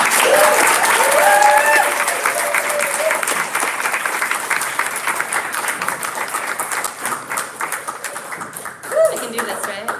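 Sustained applause from a poetry reading audience greets poet Sophia Dahlin, a dense steady clapping that fills the room and gradually thins toward the end, with a few voices mixed in.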